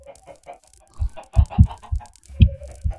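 Several chickens in a video game give a run of sharp, punchy clucks, quiet at first and then louder and closer in irregular bursts, with no talking.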